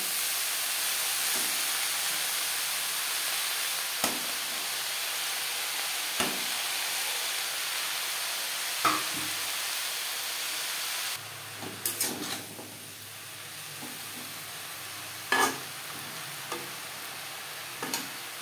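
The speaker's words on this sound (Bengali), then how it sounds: "পেঁয়াজের সাথে শাক বেশ ভালো করে মিক্স করে দেব" Note greens (amaranth leaves) with onion stir-fry in a pan, sizzling and hissing steadily while a utensil knocks and scrapes now and then. The sizzle softens partway through and stirring clatters follow.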